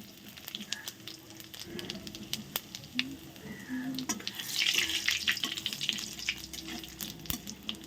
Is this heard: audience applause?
no